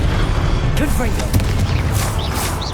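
A Confringo fire spell explodes in Hogwarts Legacy with a deep, rumbling boom and a crackling burst, loud and close over the in-game action and character voices.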